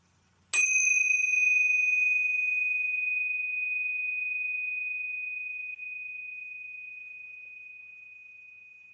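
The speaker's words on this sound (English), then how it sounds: "I love to ring the tingsha bells to clear out our space and raise the vibrational frequency." A single strike of tingsha bells, a pair of small Tibetan cymbals, rung to clear a space, giving a bright ding that rings on in a long, slowly fading pure tone.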